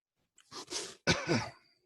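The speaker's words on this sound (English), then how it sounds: "sorry, had to cough right away." Two rough, breathy coughs in quick succession, close and moderately loud, with no talking.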